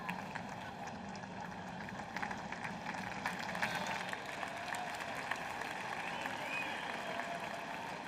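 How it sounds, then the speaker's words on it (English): A large tennis crowd at a night match of the 2013 US Open applauds steadily for several seconds, a dense, even patter of clapping heard from a distance with faint murmuring underneath. "Crowd liked it."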